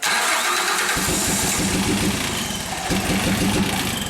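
A Nissan engine on a SkyJack scissor lift cranks and catches, a loud nearby restart that settles into a rough, steady idle with a slight stumble partway through.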